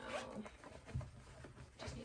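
A zipper on the pocket of a sewn fabric wristlet clutch is pulled, giving a few soft, close, quiet rasps with faint handling noise in between.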